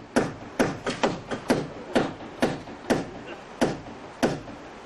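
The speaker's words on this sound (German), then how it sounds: "Das gelingt ihm auch mit dröhnenden Hammerschlägen." A hammer drives the last nail into wood, landing about ten sharp, resonant blows in a fairly steady rhythm, each one close and clear with a brief ring.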